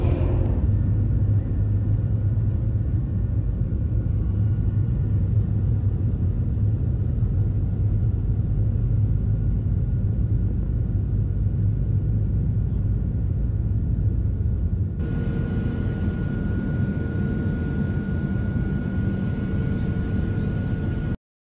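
A continuous low rumble fills an airplane cabin during flight, loud and steady throughout, with its tone shifting slightly partway through.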